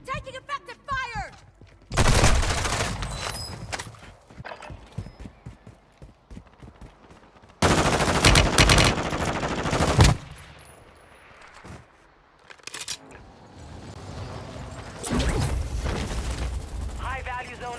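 Bursts of heavy automatic gunfire ring out in Call of Duty Modern Warfare 2, loud and close, arriving in several separated volleys with quieter stretches and voices between them.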